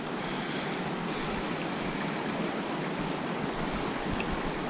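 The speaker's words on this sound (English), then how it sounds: "all I can hear is the waterfall" Waterfall at Loch Etive in the Scottish Highlands, a constant broadband rush of falling water heard from some distance, steady and unbroken with no voices.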